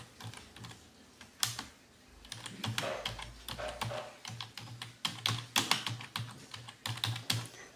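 Someone types a name on a computer keyboard, a steady run of quick, close keystroke clicks in uneven bursts with short pauses, alone and without talk.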